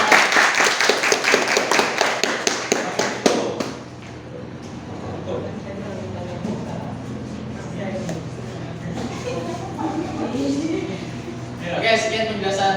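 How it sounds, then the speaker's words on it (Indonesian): Audience in a classroom presentation session clapping for a few seconds, a dense rapid burst of hands up close, then fading into talking and murmuring voices. "Oke, tepuk tangan dulu dong"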